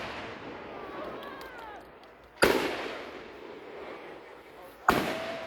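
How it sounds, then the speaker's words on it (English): Two sharp firework bursts from a fireworks display at a VA park in Clarksburg, West Virginia, each cracking loudly and then rolling off into a long decaying rumble, with faint whistles and distant crackle in between. "There goes Jack Packet went in his bag of tricks for this year's fireworks display."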